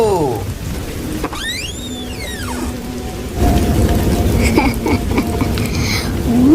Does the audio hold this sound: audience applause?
no